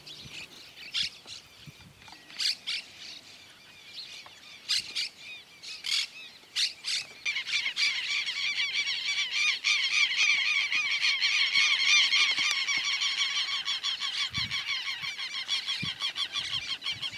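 A flock of monk parakeets feeds in a wheat crop near Esperanza, Santa Fe, Argentina, first with scattered sharp squawks and then a dense, continuous chorus of harsh chattering calls, fairly loud and steady, with no talking.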